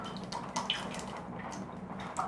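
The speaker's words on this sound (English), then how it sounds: "And the water inside the bottle goes down into the balloon." Water glugs from an upturned bottle down into an air-filled balloon fitted over its neck, a steady wet trickle with small bubbling pops, close and moderately loud.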